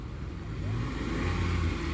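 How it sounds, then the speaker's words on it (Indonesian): A private car pulls in at a busy pilgrimage site, its engine a low steady rumble that grows slightly louder as it approaches, with faint ambient crowd noise and no talk. "ini baru datang lagi teman-teman ya, satu kendaraan pribadi"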